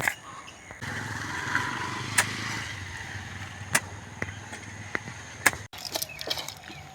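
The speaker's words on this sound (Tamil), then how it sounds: "லொரி ஒரு போகுதுடா" A lorry drives past outdoors where manure is being spread, with a low engine rumble that sets in and carries on steadily, broken by sharp clicks and knocks nearby.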